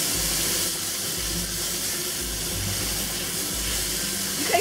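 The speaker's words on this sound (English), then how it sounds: "the first thing we're going to do is pre-cook the fish" Cod fillets sizzle steadily in a hot pan while pre-cooking, a continuous even hiss with no talk.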